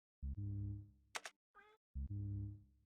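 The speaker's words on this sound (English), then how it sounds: "meow." Short synthesized meow chat sounds from the video game Jump Chat, a few separate bleeps with a harmonic buzzy tone and one rising squeak, played alone with pauses between.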